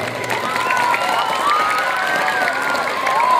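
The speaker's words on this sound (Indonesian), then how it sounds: "Kita beri aplaus untuk SDN Kota Kulon 2 ini." Applause and crowd noise for SDN Kota Kulon 2 school at a school event, a short loud burst of clapping and cheering with children's voices mixed in throughout.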